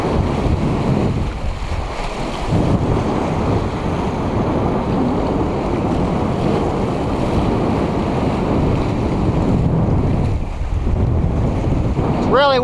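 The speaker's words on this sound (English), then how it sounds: "Really windy out here." Strong wind roars and buffets the microphone continuously over the open Aegean Sea, with waves sloshing beneath the gusts.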